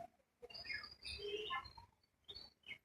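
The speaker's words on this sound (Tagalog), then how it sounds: "Daming klase ng ibon." Several quick, high chirps and trills from many kinds of birds overlap and come in bursts in Hong Kong Park, fairly faint with a light background hiss.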